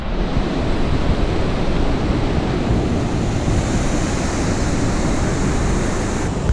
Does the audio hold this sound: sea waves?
yes